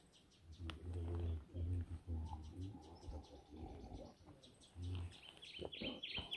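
A raven calls near a campsite on Kilimanjaro, giving several low, throaty croaks in short bursts, fairly close, with quieter chirps and faint outdoor background noise around them.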